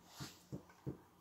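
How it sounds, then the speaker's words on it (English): A puppy gives three soft, short whimpers, evenly spaced and faint, with no talking. "My puppy wants to say hi."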